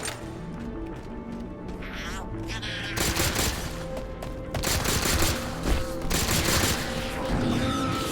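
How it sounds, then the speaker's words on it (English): Carbine fire and combat in Halo: The Master Chief Collection on Easy, with sharp repeated shots, crashes and impacts under a steady game soundtrack, growing louder and busier partway through. "I only have 10 shots left in the carbine."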